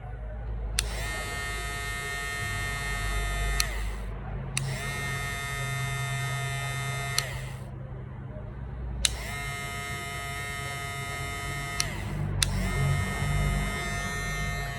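An electric hair clipper buzzes steadily in four bursts, switched on and off with short pauses between, close by over a low background hum.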